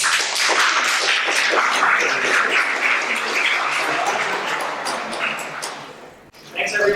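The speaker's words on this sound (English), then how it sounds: "let's give Pepe another round of applause." Audience applause for a speaker before an existential risk and AI safety talk in Manila, dense steady clapping from a room full of people that thins out near the end, followed by a brief noise.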